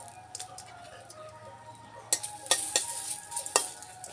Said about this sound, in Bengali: এখানে শুকনো লঙ্কা দিয়ে দিচ্ছি।